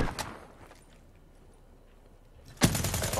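Gunfire from a gun in Call of Duty: Black Ops 3: a short burst at the start, a quiet lull, then loud, sustained rapid fire to the end.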